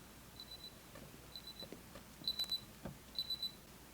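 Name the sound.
timer alarm going off in Breaking Bad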